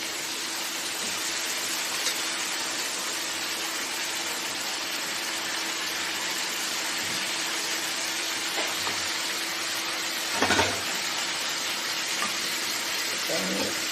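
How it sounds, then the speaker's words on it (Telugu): Eggplant pieces fry in hot oil with ginger and turmeric for a garlicky eggplant curry, making a continuous, even sizzle with one brief clatter partway through. "ఇప్పుడు వంకాయ ముక్కలు వేసేస్తున్నాం"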